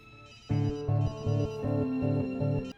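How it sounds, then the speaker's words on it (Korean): A landline-style telephone rings in a landlord's house as a detective calls, about five evenly spaced electronic ring bursts, close and clear with no talking. "집주인에게 전화를 걸어보는데"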